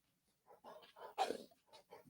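A gray-muzzled older pet dog makes a few soft, close grumbling and whimpering sounds, then gives one short muffled bark-like burst, all fairly faint with no talk over it.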